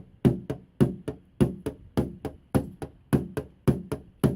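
Quick, even taps on the driver's-side quarter panel of a 2003 Cadillac CTS, about three per second, each a close, dull metallic knock with a short ring.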